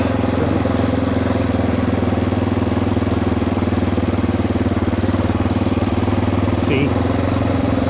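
An off-road motorcycle engine with a carburetor misfiring up top runs steadily at high revs at Crooked Finger OHV area, a loud continuous buzzing drone close up, with wind rushing over the microphone throughout.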